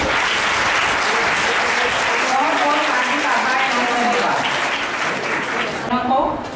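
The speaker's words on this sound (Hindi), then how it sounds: "स्वागत में तालियां बजाइए।" Sustained applause from a large audience welcoming a teacher being honoured at a government senior secondary school event, dense and steady throughout with crowd murmur mixed in.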